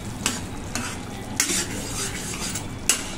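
A spoon scrapes and stirs dried prawn curry in a hot pan, with steady sizzling and a few sharper metallic clinks recurring at uneven intervals, close and fairly loud with no talking.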